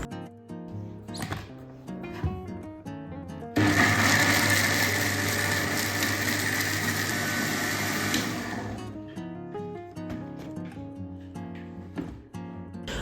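A blender whirs loudly for several seconds blending soaked beans with salt and water, starting abruptly and then cutting off, with kitchen clatter before and after.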